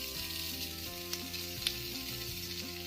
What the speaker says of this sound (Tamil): சும்மா ஒரு நிமிஷம் பொரிச்சு விடலாம்.